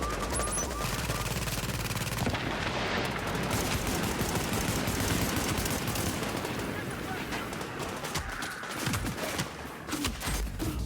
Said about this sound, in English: I had NPCs firing at me, so I knew it was time to turn and run.